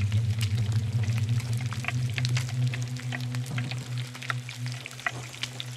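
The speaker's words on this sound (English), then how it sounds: "I'm going downstairs to put my pork chop on the stove." A pork chop cooking on a stove in the pirate video game Sea of Thieves, a soft continuous bubbling sizzle over a low steady hum, with faint scattered pops and crackles, no talking.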